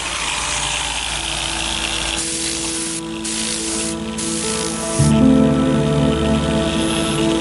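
A car polisher running against clear-coated paint, a steady broadband whir with a deeper motor hum that drops in pitch and shifts load partway through as the speed is dialed back, close and continuous.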